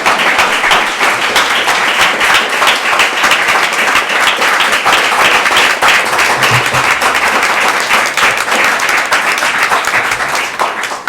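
A hackathon audience gives loud, sustained applause from many hands, a dense even wash of clapping that lasts throughout and fades slightly at the end.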